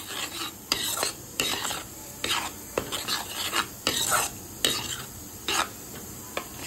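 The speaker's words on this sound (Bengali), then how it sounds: "টক দইটা দিয়েও ভালোভাবে নাড়িয়ে নিচ্ছি" Sour yogurt stirred into spices in a pan for potato-and-pumpkin chokka: a spoon scrapes in repeated rhythmic strokes with a soft sizzle beneath, close by and with no talking.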